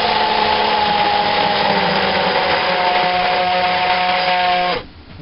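An electric blender whirs loud and close at a steady pitch while it mixes palm oil for homemade mayonnaise, then the motor cuts off abruptly near the end.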